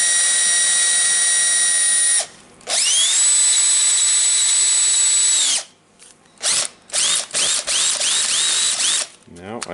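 A Makita DHP458 cordless drill with a clutch fault runs in drilling mode, with a steady high-pitched whine, a long run followed by several short bursts of trigger pulls with brief pauses between them.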